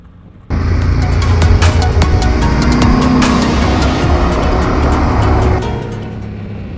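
Motorcycle descending the south side of a Pyrenees mountain pass, its engine a loud, steady close roar with wind rush that begins abruptly and eases slightly near the end.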